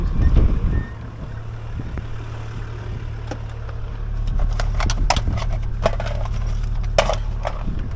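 A vehicle engine idles at an outback water point, a low steady hum running throughout beneath scattered knocks, clatter and handling noises nearby.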